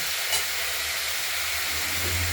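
Flat beans and sweet potato fry steadily in hot oil with mustard seed and chilli, giving an even, continuous sizzling hiss close by with no talking.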